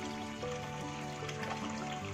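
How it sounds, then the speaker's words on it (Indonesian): A small waterfall splashes down steadily into a pool, a continuous close trickling wash with no break. "dengan air yang jatuh dari atas"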